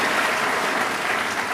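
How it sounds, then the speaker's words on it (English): A congregation audience at a university ceremony gives young people a round of steady, dense applause, loud and close, with no voices over it. "Let's clap for young people."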